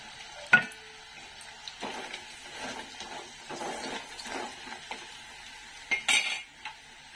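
Chicken pieces in oil being tossed with ground mustard, fenugreek and cumin powder for a pickle: soft scraping and stirring with a spoon and bowl, a few sharp clinks of metal, and a faint sizzle.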